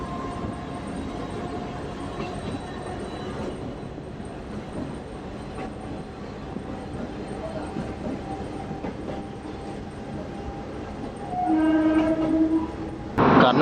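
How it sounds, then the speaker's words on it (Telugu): A DEMU train rolls from Kurnool toward Kotla with a steady interior rumble throughout, and a horn blares near the end. "కర్నూలు తర్వాత మన ఫస్ట్ స్టాప్ అయిన కోట్లాకి మన ట్రైన్ చేరుకుంది"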